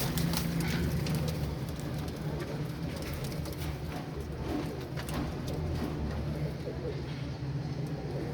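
Rampuri pigeons coo faintly amid a dense, steady background hiss and murmur at a pigeon sale in Faisalabad, the calls partly buried in constant broadband noise.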